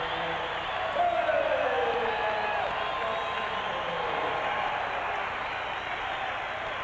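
Boston crowd at a Celtics vs Lakers basketball game roaring and cheering in a sustained, dense wall of noise during a timeout, loud and close throughout.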